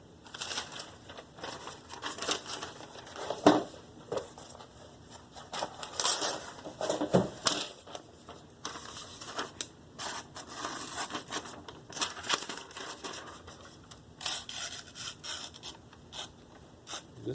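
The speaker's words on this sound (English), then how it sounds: "I'm going to do edge trailing passes, basically stropping passes instead of into the edge or edge leading passes" A knife blade is drawn in edge-trailing stropping passes across the stone of an Edge Pro sharpener. Repeated soft, close scraping strokes come in an uneven rhythm over quiet background hiss.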